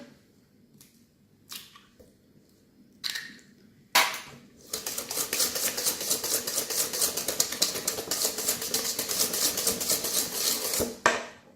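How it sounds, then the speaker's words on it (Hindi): Brownie batter is stirred in a bowl as eggs go in, a few soft clinks giving way to a steady, busy scraping and clattering that runs for several seconds before stopping. "साथ साथ अंडे डालते जाएं और साथ साथ अब इसको मिक्स करते जाएं।"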